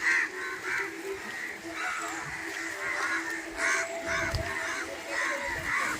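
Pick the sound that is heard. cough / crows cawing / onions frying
crows cawing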